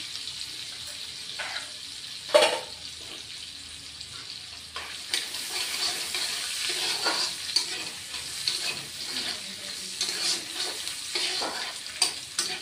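Onions frying in oil with cumin seeds for an ash gourd dish, a steady soft sizzle running throughout with occasional stirring scrapes and one sharper clack, fairly quiet and close.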